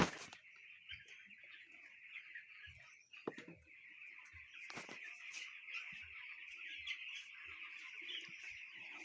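Broiler chicks in a poultry farm house, about 1400 birds, give a steady high chirping chorus. Occasional clucks and soft knocks sound under it, with no speech.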